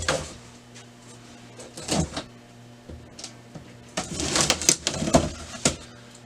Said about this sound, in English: First thing we got to do is open the box.